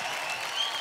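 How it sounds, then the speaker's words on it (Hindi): A short burst of audience clapping at a singing competition show, dense and steady applause from a crowd for under a second with no speech over it. "जोरदार ताली"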